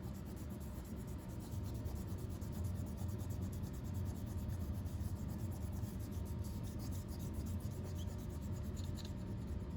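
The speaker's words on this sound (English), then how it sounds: "we're gonna go ahead and erase all those lines that we have on our fox" An eraser rubs out pencil lines on a paper drawing of a fox, producing a quiet, continuous scratchy rubbing with quick back-and-forth strokes, close and unaccompanied by talk.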